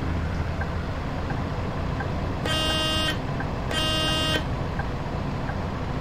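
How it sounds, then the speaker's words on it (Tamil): A bus horn in the Bus Simulator 18 video game sounds two sustained toots, each about two seconds long, over a low, steady engine drone. "ஹார்ன் அடித்தாலும் மதிக்க மாட்டானுல்ல."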